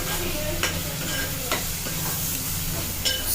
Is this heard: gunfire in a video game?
no